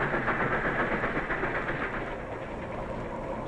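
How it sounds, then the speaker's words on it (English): A 1940 Baltimore and Ohio Railroad steam locomotive train rolls past with a steady rumble and rhythmic clatter of wheels on track, moderately loud and continuous. "the powerful steam engine"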